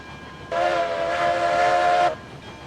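A train in the game Railroads Online, modelled on the Tweetsie Railroad, pulls into a station with one long, steady whistle blast lasting about a second and a half over a rumbling background, with no voices.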